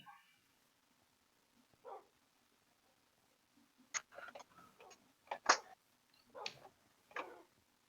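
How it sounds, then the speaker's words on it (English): Tamed Minecraft wolves barking, several short sharp yaps scattered in irregular bursts against near silence, some close and clear, others fainter. "Come on, dogs, let's go home."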